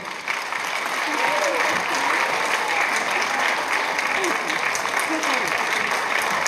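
Steady crowd applause at a Romanian folk music concert as performers are called on stage, continuous and fairly loud, with indistinct voices and cheering mixed in.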